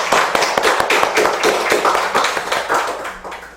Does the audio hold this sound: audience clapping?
yes